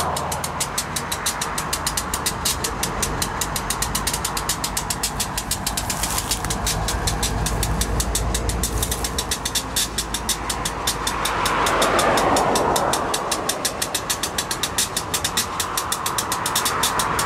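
An Albany & Eastern GP9 diesel locomotive idles nearby with a steady, rapid mechanical clatter and low rumble, the engine throbbing evenly and swelling slightly in places, with no talk.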